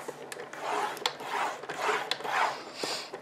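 A paper trimmer scores a sheet of paper for a mini album, producing several soft, close rasping strokes with short gaps between them.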